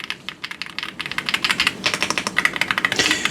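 Fast, steady typing on a cheap AliExpress gaming keyboard, dense crisp clicking keystrokes close up and continuous throughout, with a slightly louder cluster near the end and no voices.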